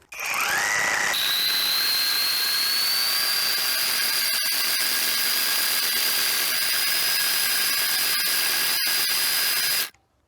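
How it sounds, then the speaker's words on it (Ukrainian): Dnipro-M 201BC compact rotary hammer with a 20 mm bit drilling into a concrete foundation, starting up and then running as one loud, continuous close hammering whine for about nine seconds before stopping abruptly. "беру 20-й бур і намагаюсь просверлити фундамент насквозь"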